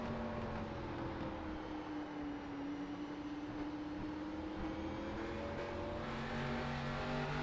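Race car engine from a Grand National Series sim race at Thompson Speedway, held at steady high revs through a corner and climbing slowly in pitch as the throttle comes back on, continuous and close, with no talk.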